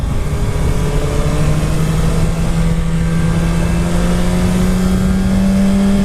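A 2019/2020 Suzuki Hayabusa sport motorcycle accelerates onto a highway, its loud, close engine note climbing steadily in pitch under rushing wind noise.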